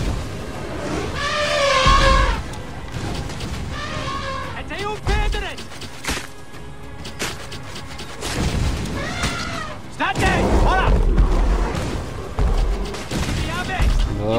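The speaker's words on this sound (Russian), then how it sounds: "Да, огненные бомбы." Fire bombs exploding in the video game Assassin's Creed Origins, several heavy booms in bursts mixed with shouting battle noise and clashing, with talk over the action.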